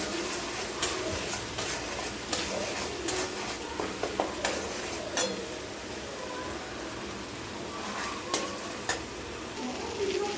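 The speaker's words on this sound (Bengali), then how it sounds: "দিয়ে এটাকে ভালো মতো করে কষবো" Spice paste with turmeric and salt sizzles steadily in hot oil for a pabda fish mustard-poppy curry, with a spatula stirring and scraping the pan in repeated close strokes throughout.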